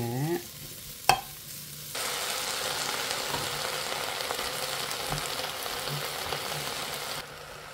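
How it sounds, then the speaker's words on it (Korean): Dried pollock and seaweed stir-fry in sesame oil, a loud, continuous sizzle that starts after a brief clatter and carries on evenly for several seconds before cutting off. "참기름에 달달 볶아줍니다."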